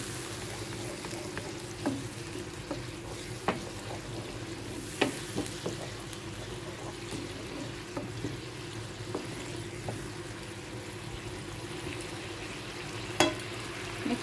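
A stone-ground spice paste fries in a pan for a hilsa fish curry, putting out a dense, constant sizzle and bubbling with occasional spoon taps and scrapes as it is stirred, heard close and alone.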